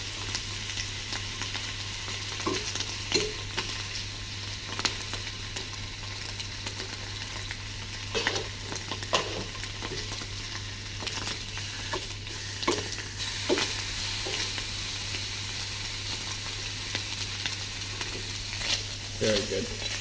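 Spinach warming in a hot frying pan for eggs Benedict, a steady soft sizzle with occasional stirring clicks and scrapes over a constant low hum, close up and fairly quiet.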